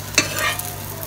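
Onions and chillies frying in a home kitchen pan while dosa and sambar are cooked, a steady close sizzle with a brief stir scraping near the start.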